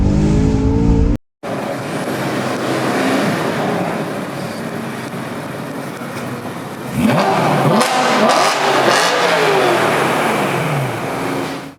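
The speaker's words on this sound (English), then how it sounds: "I want a bit more speed, downshift." A tuned 440 bhp BMW E92 M3 Competition's engine roars loudly and continuously as it accelerates after a downshift, pitch climbing through the gears, with a brief cut and a surge midway.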